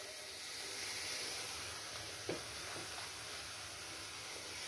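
Spices fry in a pan with a steady, close hiss of oil, broken by a brief scrape or two as they are stirred around.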